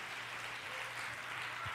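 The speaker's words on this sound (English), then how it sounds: "Come on, clap your hands and thank God." Church congregation clapping their hands during a sermon, a soft, steady, fairly distant patter of many hands without a break.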